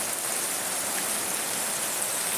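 First monsoon rain falling steadily in Konkan, a dense, even hiss of drops pouring down without pause, close and constant with no voices over it.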